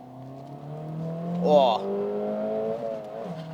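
The engine of an Acura Integra Type S revs at full throttle on good tarmac, its pitch climbing steadily through a gear. A man gives a brief exclamation partway through.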